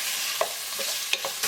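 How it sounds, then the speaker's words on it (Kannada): Mutton sizzles steadily in hot ghee, a constant bright hiss broken by a few scraping stirs of a utensil against the pan. "ಇನ್ನು ಇದನ್ನು ಸ್ವಲ್ಪ ಹೊತ್ತು ಚೆನ್ನಾಗಿ ಫ್ರೈ ಮಾಡುವ ಈ ತುಪ್ಪದಲ್ಲಿ."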